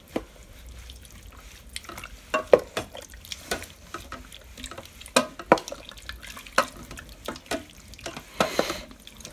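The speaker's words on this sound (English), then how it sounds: "Let's stir this up." Curry powder is stirred into chicken curry in a Cosori 6-quart pressure cooker, giving close, irregular scrapes, clinks and soft wet slaps that come in uneven bursts, with no speech.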